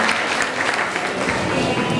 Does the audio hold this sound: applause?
yes